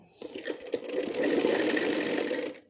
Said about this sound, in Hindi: बिल्कुल परफेक्ट सिलाई आ रही है